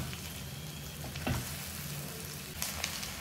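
Chicken fry sizzles steadily in a pan over high heat, a continuous close hiss of frying with a couple of brief stirring clatters.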